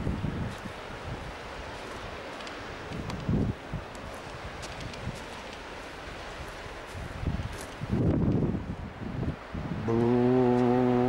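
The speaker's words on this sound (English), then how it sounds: "Foghorn." A deep harbour foghorn at Aberdeen South Harbour near the Bay of Nigg sounds one long, steady, loud blast near the end, after gusty wind buffeting the microphone and a rustle of foliage.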